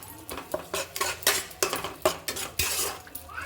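A spoon scrapes and knocks repeatedly against a pan as soybean and potato curry is stirred, sharp metallic clinks and scrapes in an irregular rhythm over a low sizzle, close and fairly loud with no talking.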